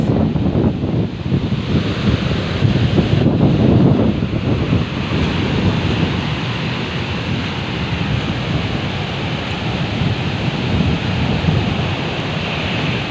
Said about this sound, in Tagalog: dahil sa matindi ang malakas na hangin guys